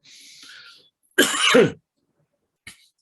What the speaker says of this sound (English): not COVID, but it's still a cough